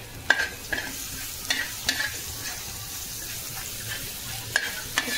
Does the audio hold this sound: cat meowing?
no